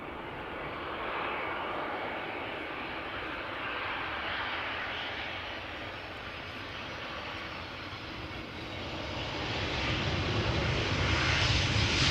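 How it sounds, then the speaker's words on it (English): A Vueling Airbus A321 arriving from Barcelona landing at Amsterdam Schiphol, its engines giving a steady, distant broadband roar that swells louder toward the end. "Airbus A321 arriving from Barcelona"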